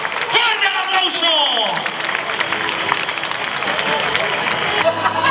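Spectators applaud and shout for a bullfighter at a recortes contest in Aldeadávila, a dense crowd roar with clapping and excited calls throughout.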